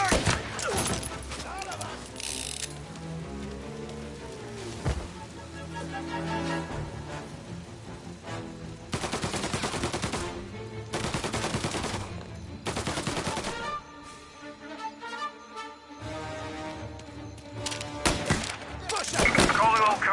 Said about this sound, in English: Reports of gunshots rolling in.